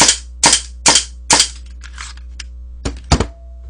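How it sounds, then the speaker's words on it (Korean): An Inokatsu Colt M1911A1 airsoft gas blowback pistol fires four sharp, evenly spaced shots, followed by a pause with faint handling clicks and then two more close, loud shots. "이노카츠 콜트에 있던 탄창을 갖고 이노카츠를 쏘고"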